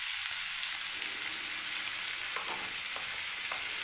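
Maggi noodles with salt and turmeric fry in a pan, giving a steady broadband sizzle throughout, with a few soft spatula scrapes from stirring toward the end; no voices.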